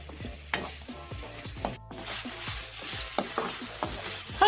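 Tomato and onion sauté in a pan for a crab fry masala, a continuous sizzle punctuated by repeated scraping stirs of a spoon, fairly close, with light music behind.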